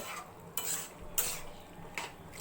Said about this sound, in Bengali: আবারও ভালো করে নেড়ে চেড়ে